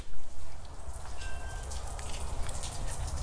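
Rain falling steadily on a covered backyard patio beside a saltwater pool, a dense even hiss of drops with brief louder spatters near the start, no voices.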